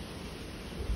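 Strong wind outdoors on a berry-picking outing, a steady broad rushing roar buffeting the microphone for a moment, with no other sounds.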